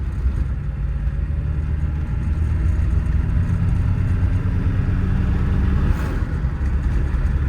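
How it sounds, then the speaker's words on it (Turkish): Diesel Audi engine fitted in a Tofaş car, heard from inside while driving in fourth gear at about 50 km/h, a steady loud low drone with constant rumble throughout. "Bayağı bağırarak konuşuyorum dizel araba olunca"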